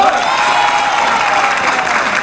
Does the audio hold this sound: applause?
yes